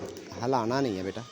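Pigeons coo softly in a loft where they are kept, the low warbling partly masked by someone talking nearby.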